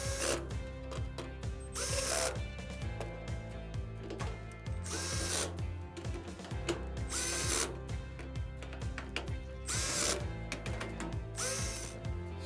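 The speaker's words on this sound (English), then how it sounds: "We'll put the screws in each side." A power drill or driver runs screws into the side panel of an electric clothes dryer during a repair, giving repeated short whirring and ratcheting bursts close by, with no talking.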